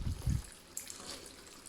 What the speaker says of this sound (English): I'm going to add a bit of water in.